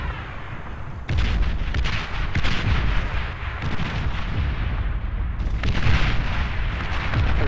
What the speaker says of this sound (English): Artillery being traded back and forth, back and forth.